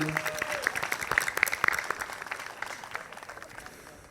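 A room claps for donors who gave $500 at a Night in Oaxaca fundraiser, a brief tone at the start, then a burst of applause that peaks early and slowly fades, with some crowd noise beneath.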